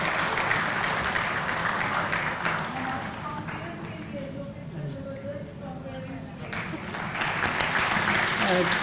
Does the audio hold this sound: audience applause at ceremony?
yes